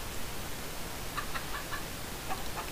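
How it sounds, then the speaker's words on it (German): Minecraft chickens cluck a few times in short, faint bursts over steady background noise, with no talk. "Die Hühner finden es auch toll."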